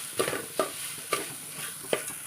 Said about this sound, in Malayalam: തേങ്ങ നന്നായിട്ട് ഒന്ന് ഇളക്കി അതിൻ്റെ പച്ചമണമൊക്കെ ഒന്ന് കളയുക